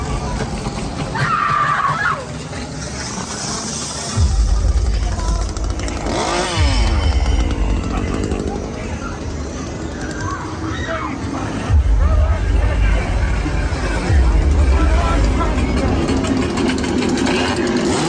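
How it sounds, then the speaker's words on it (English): Chainsaws rev at a Halloween haunt scare zone during a theme park's opening-day event, loud revving engine bursts rising and falling over a busy crowd babble, with people talking nearby. "Lots of chainsaws, that's good. We like chainsaws."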